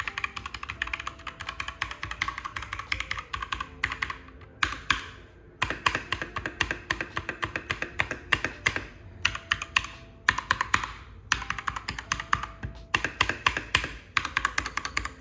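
Rapid typing on a mechanical keyboard, up close, with dense clacking keystrokes in bursts separated by brief pauses and no talking.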